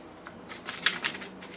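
Tarot cards are shuffled for a reading, giving a few quick papery riffles and soft flicks, close and fairly quiet.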